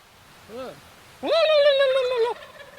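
Wild turkey gobbler calling outdoors in a park: a short soft call, then a loud, sustained rattling gobble of about a second, close and clear over quiet background.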